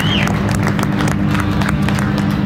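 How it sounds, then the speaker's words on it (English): Audience applause at a Barrett-Jackson car auction in 2023, a dense, steady wash of clapping from a large crowd over a constant engine-like hum, loud and continuous throughout. "Let's give a big round of applause for Luke."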